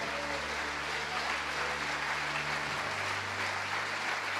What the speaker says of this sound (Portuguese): Amém, aplauda ao Senhor.